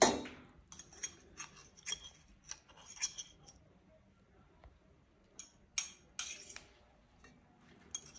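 Cutlery clinks and taps against a plate while red tomato pasta is arranged for serving: scattered light metallic chinks, some sharper than others, spread irregularly across a quiet kitchen with no talking.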